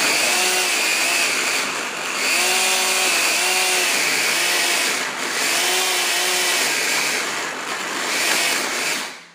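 A kitchen food processor churns thick brownie batter, its motor droning loudly and steadily with a strained, wavering pitch as the dense mixture labours the blades, running continuously with brief dips and no talk.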